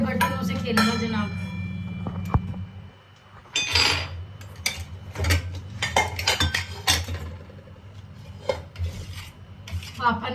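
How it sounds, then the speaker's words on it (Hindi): A small child bangs and scrapes household pots, pans and metal utensils at home, giving scattered clinks, rasps and rubbing clatter in irregular bursts, close by and fairly loud, with a low steady hum underneath. "सारे बर्तनों से खेलेगा जनाब।"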